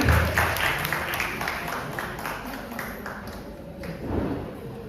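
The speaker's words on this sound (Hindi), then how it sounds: "हम चिखले आंटी के लिए भी जोरदार तालियां देंगे" Audience applause at a Raj Kapoor centenary celebration, a steady, dense wash of many hands clapping that swells and ebbs for several seconds, with faint voices underneath.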